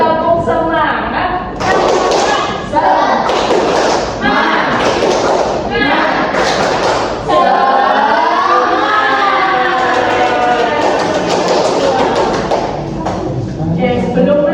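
A fourth-grade class claps a rhythmic spirited chant in unison, sharp loud bursts of claps alternating with children's voices calling along, then shifting into sustained group chanting and talking in a classroom.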